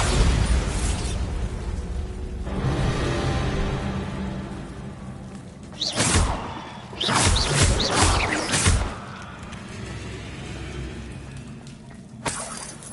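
Spell blasts cast in Hogwarts Legacy on PS4: a steady roar of magical energy, then several loud bursting impacts clustered around the middle, with a final sharp burst near the end.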